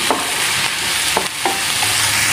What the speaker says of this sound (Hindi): इसको भी भून लेते हैं इन दोनों को हम ब्राउन करने तक भूनेंगे